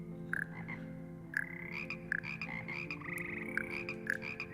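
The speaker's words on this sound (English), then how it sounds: "listening to a load of freaking frogs sort of ribbit every few seconds" A frog choir in the video game Hogwarts Legacy croaks in repeated chirpy bursts every second or so over a humming tonal backdrop, several frogs overlapping up close, with no voices.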